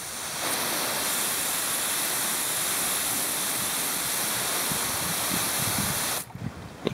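Water is sprayed hard onto a waxed car windshield to mimic a heavy rainstorm, a loud steady hissing spray that runs continuously and cuts off abruptly near the end, with no talk.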